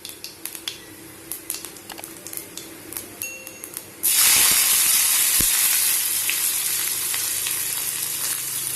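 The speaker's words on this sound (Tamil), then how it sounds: "சோம்பு நல்லா செவந்ததும் வெங்காயமும் கருவேப்பிலையும் ஆட் பண்ணிக்கலாம்." Fennel seeds crackle in hot oil with faint scattered pops, then onions and curry leaves drop in and a loud, steady, hissing sizzle takes over and continues, close up, with no talking.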